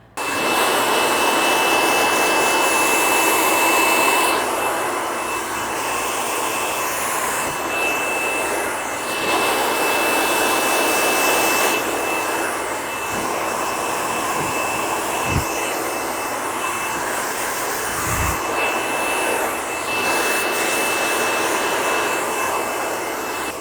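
A hair dryer blows steadily and loudly during a salon blow-dry, a continuous close whooshing roar that shifts slightly in tone as it moves around the head.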